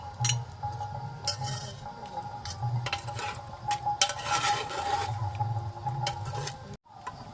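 Chicken with garam masala paste is stirred in a pan with a spoon, making scraping and clattering strokes over a soft sizzle, close and fairly steady, with a short silence near the end.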